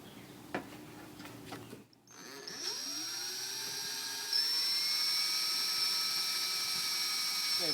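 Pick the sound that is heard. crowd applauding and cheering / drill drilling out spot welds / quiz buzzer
drill drilling out spot welds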